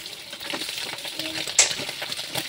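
Boiled pork ribs frying in a little oil in a pan, with a steady soft sizzle and scraping stir sounds, plus a brief metallic clink near the middle.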